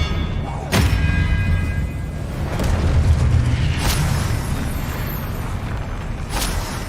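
Spell blasts from the Hogwarts Legacy video game: several booming impacts and thuds burst out at intervals over a dense, rumbling battle backdrop, loud and close, with no talking.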